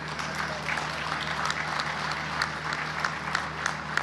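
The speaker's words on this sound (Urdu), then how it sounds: "آگے والے اتنی تالیاں بجا رہے ہیں، کو پچھلے والے بھی تالیاں بجائیں بھائی۔" Audience applause fills the hall at the Bhikki power plant inaugural ceremony in Sheikhupura, a steady, dense clapping from a large crowd that holds evenly throughout.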